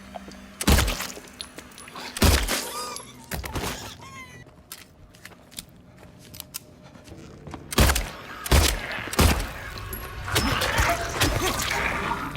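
A handgun in the video game Silent Hill 2 fires several sharp, loud shots in separate bursts, some in quick pairs, with quieter mechanical clicks and clatter between them, suggesting reloading.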